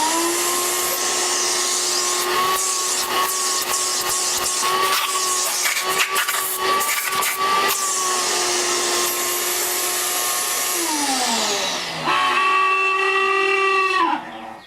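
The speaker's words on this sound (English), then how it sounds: "Let's vacuum it." A vacuum cleaner runs on a bowling ball being resurfaced, a loud steady whine with bumpy scraping, then the motor pitch drops and shifts near the end before shutting off.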